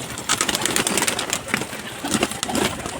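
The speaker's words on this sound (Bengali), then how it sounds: "দেখো এক করে সব পায়রা বেরিয়ে পড়ছে" Pigeons leaving their coop coo and stir close by, with soft flutters and scattered calls layered in a busy, continuous texture.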